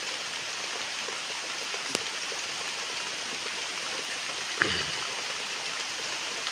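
Heavy rain pouring down outside a home, a steady, even hiss of falling water with no letup and a couple of faint knocks.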